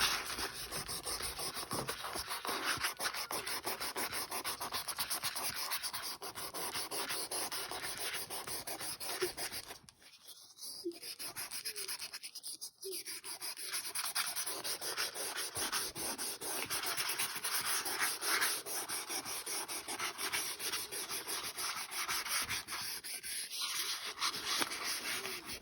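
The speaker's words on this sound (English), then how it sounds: "Really smooth out your graphite." A sheet of paper rubs graphite smooth across a cloud drawing, a steady soft close scratching that persists almost throughout, with a couple of brief pauses midway.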